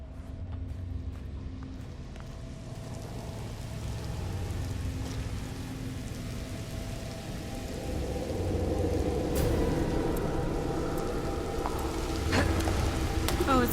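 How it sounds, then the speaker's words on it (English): Blood rains down in The Evil Within game, a dense hissing patter of drops over low ambient hum, growing louder toward the end, with scattered clicks and no speech. "It's raining blood. I love it."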